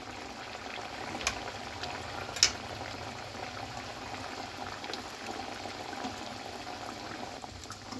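Potato and sabudana snacks fry in oil with a low, even bubbling sizzle throughout, marked by two brief sharp clicks near the start.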